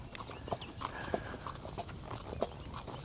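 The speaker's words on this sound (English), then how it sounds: "So this is it, horse riding in the Moroccan outback." A horse walking on a riding tour through the Moroccan outback near Agadir, its hooves clip-clopping in an irregular, moderately paced rhythm, close by, over a low rumbling outdoor background.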